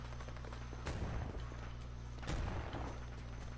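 Gunshots in the video game Predator: Hunting Grounds, two muffled, fairly faint reports spaced about a second and a half apart over a constant low game hum, with no talk.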